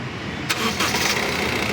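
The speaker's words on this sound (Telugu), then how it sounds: "సింగిల్ సెల్ఫ్లో అనేది బండి స్టార్ట్ అవుతుంది" The engine of a 2019 Honda WR-V VX cranks briefly and catches, settling into a steady running hum with no voices.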